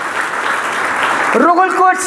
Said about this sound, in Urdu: پاک روح کے لیے زوردار تالیاں بجائیے